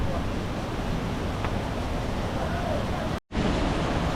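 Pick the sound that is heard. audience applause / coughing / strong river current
strong river current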